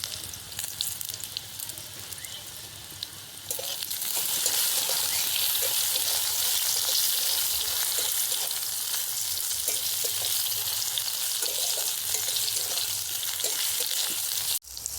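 Salted okra fries in oil for a vegetarian dish cooked without onion or garlic. It starts as a light crackle, then swells into a loud, steady, close hiss of sizzling that lasts until it cuts off near the end.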